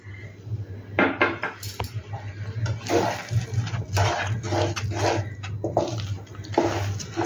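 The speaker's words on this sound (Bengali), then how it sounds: "এই দেখো চিনিটা মেশাচ্ছি" Chana dal barfi mixture being stirred with sugar in a pan, with repeated scraping and clinking of a metal utensil against the pan in uneven bursts over a low steady hum.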